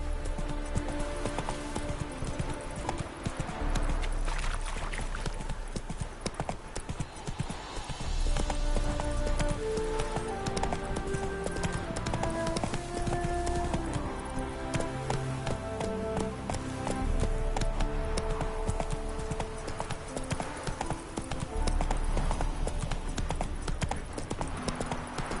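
Roach, the horse in the video game Witcher 3, trots with a steady clip-clop of hoofbeats under continuous game music, and a brief snort or whinny comes in at one point.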